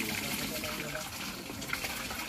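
Water gushes steadily from a tap as a bath is filled, a continuous splashing rush heard up close with no breaks.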